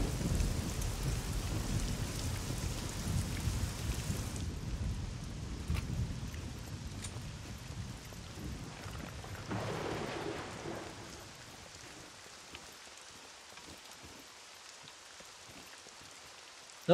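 Steady rain in the game SCUM hisses loudly and close, with a low rumble of thunder, then fades to softer scattered drops.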